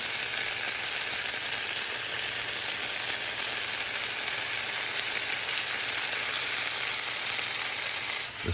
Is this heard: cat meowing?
no